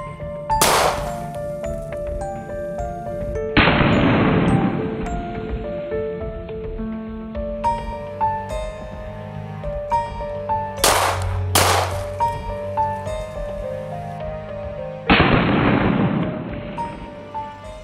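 Pistol shots fired at an indoor shooting range pistol bay, heard as several sharp, loud reports spread across the clip, each with a broadband crack and echoing decay over a tonal musical background.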